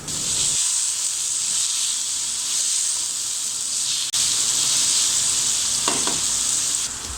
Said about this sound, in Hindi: चिकन फ्राई हो चुका है, अब हम इसमें 1 टेबलस्पून ज़ीरा और 1 टेबलस्पून नमक ऐड करेंगे।